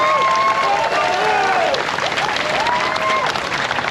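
A crowd applauds and cheers for veterans of an Honor Flight Chicago trip, with steady, dense clapping throughout and voices rising over it.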